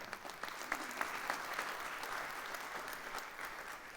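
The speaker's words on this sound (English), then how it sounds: "Round of applause for Mara." Conference audience applauds a departing speaker, a steady, moderately distant wash of many hands clapping with a few sharper claps standing out, fairly quiet overall.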